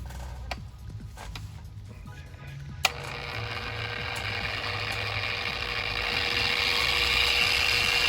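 A power polisher buffs a headlight with old polish at a raised speed; after a click its motor whirs up into a steady hum that grows louder toward the end.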